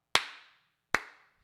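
Two sharp, separate hand claps, each a crisp smack with a short reverberant decay, spaced under a second apart in otherwise quiet surroundings.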